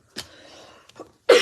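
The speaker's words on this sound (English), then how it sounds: "Oh, I hate having to cough." A single sharp cough bursts out close and loud at the end, after a short throat noise earlier and a quiet stretch.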